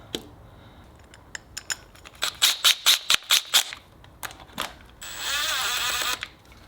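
A ratchet tightens the thermostat housing bolts to torque spec on a Subaru EJ207 engine. Quick, close ratcheting clicks come in a short run with no voices, followed by a brief hiss.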